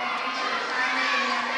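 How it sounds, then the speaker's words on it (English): A girls' swim team cheers at a high school swim meet between Midland High and Dow High, a close, loud burst of overlapping youthful shouts and chanting voices. "so now the girls will do their cheering"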